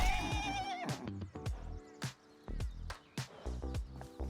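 Horse in the game Rust whinnies in a high, wavering cry at the start, followed by a run of sharp clip-clop hoofbeats and thuds at close range with no talking.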